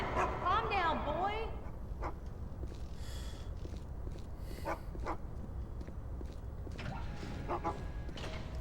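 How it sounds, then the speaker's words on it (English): A dog in the video game Geist whimpers and yips in short bursts, with snorts scattered through, heard under frequent talking. "Get that dog away from me!"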